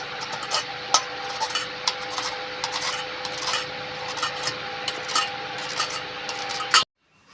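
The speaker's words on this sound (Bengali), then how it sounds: "এই কুমড়োটা আমি এবার গ্রেট করে নেবো গ্রেট মেশিন দিয়ে।" A peeled, washed ripe pumpkin is grated, giving a continuous run of close, rhythmic rasping strokes with sharp scrapes at regular intervals before stopping abruptly.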